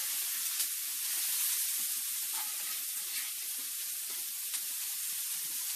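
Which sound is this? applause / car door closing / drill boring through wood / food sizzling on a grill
food sizzling on a grill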